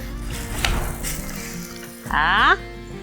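A white-corn tortilla goes onto a hot clay tiesto griddle and bursts into a sharp, close sizzle for about half a second, following a stretch of low background clatter and room noise.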